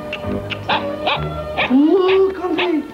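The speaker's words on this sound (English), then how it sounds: "Hello, little doggy! How are you?" Small dog giving a run of short yips and whimpering barks, close and fairly loud over about three seconds, with a rising whine near the end.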